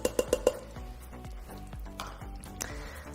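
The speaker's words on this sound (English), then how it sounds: "So we're gonna mix it up really good and then just let it saute just to get a little bit thicker." Cream sauce being mixed and sautéed in an Instant Pot for a low-carb keto dish: four sharp utensil clinks against the pot at the start, then softer scraping and stirring clatter, close and moderately loud with no talking.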